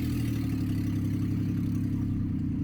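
A Ford F-150 pickup truck's loud, steady engine drone with a rattly low rumble while cruising along, constant throughout with no pauses.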